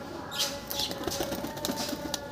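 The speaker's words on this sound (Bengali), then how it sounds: "সাদা ম্যাটাস পায়রা এগুলো।" White Matas pigeons in a home loft, with several bursts of wing flapping and light fluttering near the birds, set against a steady background hum.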